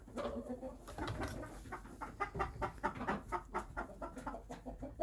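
Chickens cluck and murmur inside a backyard coop, a close, busy chorus of overlapping soft calls with a constant low background hum.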